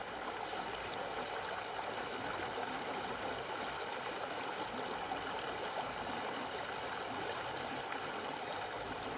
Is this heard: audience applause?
no